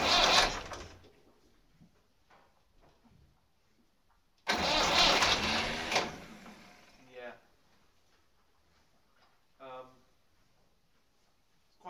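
A cold Massey Ferguson 135 tractor engine cranks in two loud bursts, the second roughly two seconds long, with quieter mechanical noise between them and brief voice-like sounds near the end.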